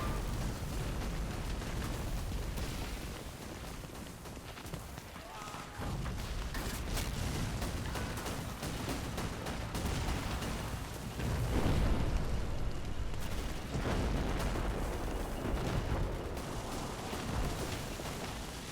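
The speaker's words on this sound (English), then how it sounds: "those explosions are wonderful" Dense, continuous booming of explosions and artillery in the World War II strategy game Men of War: Assault Squad, a 1940 German armoured assault on France, loud and sustained with overlapping blasts and rumbling throughout.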